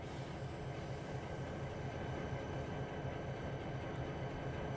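A Siemens Charger locomotive runs in the video game Trainz Simulator 3 on the California Sunrise route, giving a steady, fairly quiet rumble that holds even throughout with no talk.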